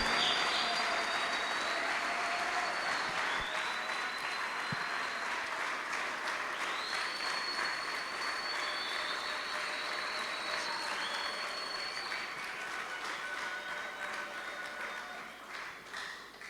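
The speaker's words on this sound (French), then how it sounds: "Applaudissez très fort." Sustained applause from a student audience fills a university hall in Kikwit, a dense steady wash of clapping lasting throughout and fading slightly at the end, with faint whistles above it.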